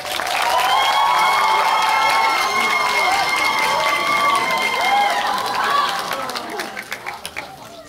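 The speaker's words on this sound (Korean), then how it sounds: "큰 박수로 맞이해 주시죠" Theater audience clapping and cheering as a film's lead actors and director come out for a stage greeting after a screening, loud sustained applause with crowd voices and a bright tonal layer over it, thinning into scattered claps at the end.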